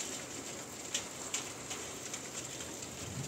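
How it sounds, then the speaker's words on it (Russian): Meltwater from snow thawing off a roof on a warm day drips and runs steadily like heavy rain, a dense continuous patter with a few sharper drops standing out, close by and with no voices. "Снег тает с крыши."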